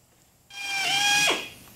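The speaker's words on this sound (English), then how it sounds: "Going to be drilling these pilot holes." A power drill bores pilot holes in fiberglass front body panels of a 1934 Ford Coupe, starting abruptly as a loud, steady whine that climbs slightly in pitch, then winds down quickly as the bit stops, close by with no talking.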